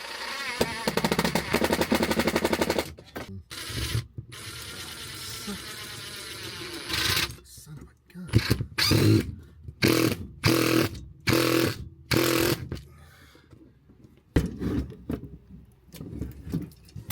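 Power tool drives bolts to secure a part, rapid rattling impact bursts in a long run, then several short separated bursts, close, with someone talking in between.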